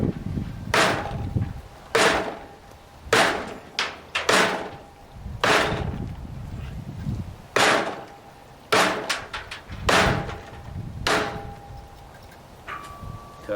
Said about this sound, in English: Zombie tool versus a piece of composite board decking.